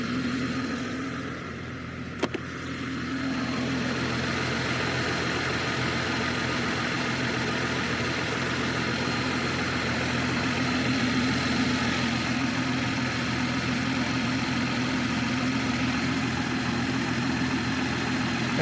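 A 2020 BMW 630i 6 Series GT's six-cylinder engine idles steadily with the air conditioning running at maximum. The low, even hum and fan drone hold a constant level throughout, with one brief click early on and no talking.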